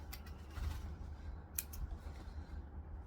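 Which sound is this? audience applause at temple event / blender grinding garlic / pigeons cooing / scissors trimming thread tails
scissors trimming thread tails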